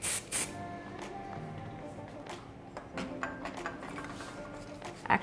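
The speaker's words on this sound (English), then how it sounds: "Actually gonna use my unreleased hairspray coming out October 2019." Hairspray mists onto hair during an updo, several short hissing spray bursts at the start and more through the middle and end, close to the mic amid soft handling noise.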